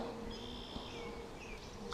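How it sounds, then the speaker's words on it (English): Faint, steady buzzing of bees around a hive holding a newly caught swarm, a thin drone with occasional passes, ending in a brief louder knock. "There's still quite a few bees in here"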